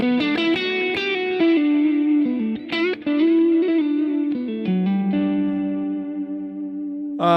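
A guitar plays a flowing run of notes through a Halo multi-delay in a Fractal unit with no reverb, each pick attack trailed by shimmering repeats, clean and sustained with no talking.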